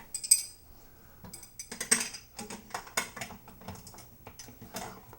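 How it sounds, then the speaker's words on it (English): Close metallic clinks and ratcheting ticks come in irregular bursts as wrenches tighten the bolts on a Pilates reformer side wheel pushed against the frame, with no voices. "Put your wrenches on, wheel up against the frame, and tighten it down."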